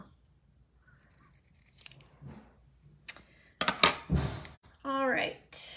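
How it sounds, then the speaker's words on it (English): Scissors snip along the sides of a craft project in a few quick crisp cuts and rustles, close by, with a voice briefly chiming in near the end. "let's snip the sides"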